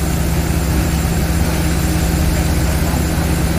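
Loud, constant engine drone of an air compressor and a generator running together at an artesian well drilling site, a steady low rumble with no pauses.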